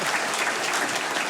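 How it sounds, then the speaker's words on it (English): Steady, dense applause from an audience at a trades and apprenticeship awards ceremony, a full room clapping evenly throughout a short moment. "See, that deserves a round of applause"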